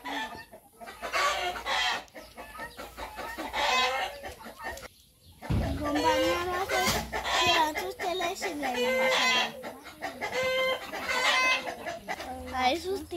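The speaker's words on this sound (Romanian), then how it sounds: "îmi cântă cocoși" Roosters crowing in a Romanian village yard, long rising calls repeating over about thirteen seconds, fairly close and loud, mixed with clucking and other busy household sounds.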